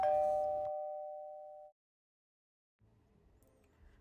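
A bright bell-like chime rings once, loud and sustained before fading out, followed by a pause and then faint low rustling.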